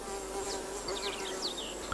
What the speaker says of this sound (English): A bee, here for example Centris collaris, is seen harvesting the oil with her fore and middle legs.